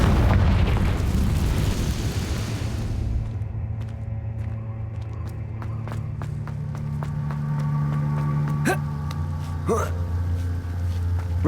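A Confringo fire spell from Hogwarts Legacy explodes in one loud, broad blast that rumbles and fades over several seconds, followed by lighter impacts and a steady musical backdrop.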